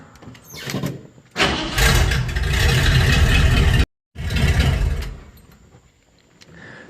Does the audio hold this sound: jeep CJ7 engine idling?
yes